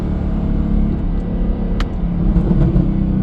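A 2000s V8 luxury saloon, either a Mercedes E63 AMG or a BMW M5, rumbles with a low, steady exhaust burble while downshifting. It sounds close and continuous, with faint crackles mixed in.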